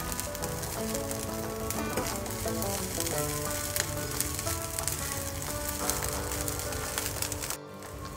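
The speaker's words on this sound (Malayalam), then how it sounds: "അപ്പോൾ നമുക്ക് കുറച്ച് കറിവേപ്പില ഇട്ട് കൊടുക്കാം." Curry leaves frying in hot oil with grated coconut, a steady, dense crackling sizzle close up, continuous throughout with scattered sharper pops and a brief dip near the end.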